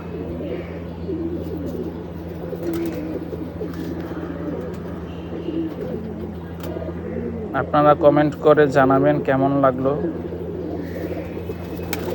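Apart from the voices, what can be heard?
pigeons cooing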